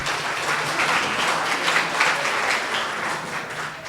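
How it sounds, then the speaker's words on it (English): An audience applauds a panel at a morning tourism seminar, steady crowded clapping at even loudness that tapers a little toward the close. "One more round of applause for our panel"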